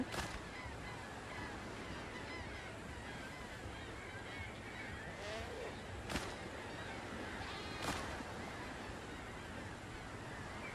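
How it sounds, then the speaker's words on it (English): Nanny goats in the pirate survival game Windrose bleat faintly against a steady wash of outdoor ambience, with a couple of sharp clicks breaking through. "Nanny goats, they'll run away."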